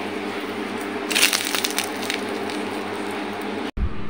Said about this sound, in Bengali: আপনাদের মাঝে আমি একটি নাস্তা ভেঙে শেয়ার করলাম।